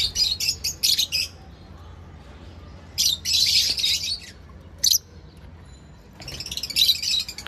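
Pet lovebirds, a green opaline pair, chirping and squawking in short shrill bursts separated by quiet gaps, close and sharp.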